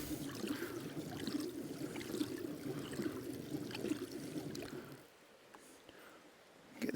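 Water swirls and sloshes inside a spinning gold pan, a close, fairly soft, continuous trickling churn that drops away sharply near the end and then starts to return.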